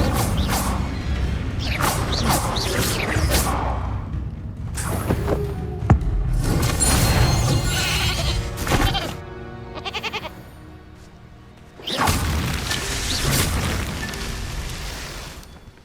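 Spell-casting effects from the Hogwarts Legacy video game, including fire and summoning spells, produce dense layered whooshes, booms and crackles in several loud bursts, with a short quieter stretch before a final loud blast.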